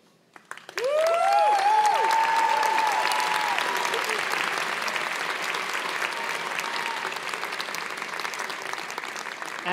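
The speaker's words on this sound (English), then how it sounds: "thank parents, husbands, wives, partners, significant others, relatives and friends who has made all this possible with your applause" Audience at a medical school commencement ceremony bursts into loud, sustained applause that fills the hall, with a few whistles and cheers rising over the clapping before it slowly eases.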